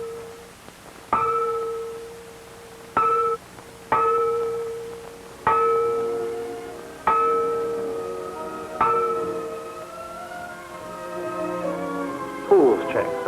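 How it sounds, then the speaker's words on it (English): A bell struck repeatedly at a scout camp swimming pool, ringing out six or seven clear, resonant strokes at uneven intervals of one to two seconds, each note sustaining and decaying over steady background ambience with faint voices. "At intervals, the buddy bell is sounded, and each scout grabs the hand of his buddy"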